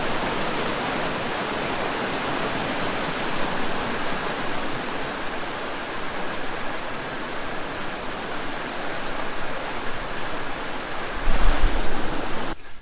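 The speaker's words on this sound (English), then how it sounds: "And here is my river in full spring runoff." A river in full spring runoff rushes as a continuous, loud, even roar of fast water, unchanging throughout and briefly louder near the end, with no voices.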